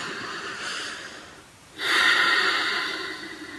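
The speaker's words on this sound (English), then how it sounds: "take a breath in and a breath out" A calm, deliberate breath: a long soft inhale, a brief pause, then a stronger airy exhale that rises suddenly and slowly fades, heard alone and close.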